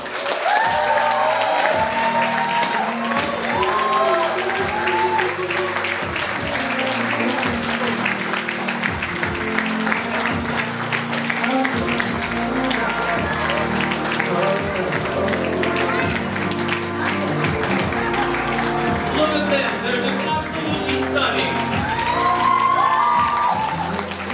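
Wedding reception guests applaud, cheer and whoop as the newlyweds, Jonathan and Pauline, make their entrance, loud sustained clapping mixed with shouts and a strong rhythmic music beat, with voices calling out throughout.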